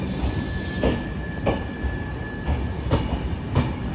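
The Gurumukhi Express runs on rails from Kolkata toward Himachal Pradesh, with a steady rolling rumble, a high wheel squeal and regular clacks of wheels over rail joints, loud and close.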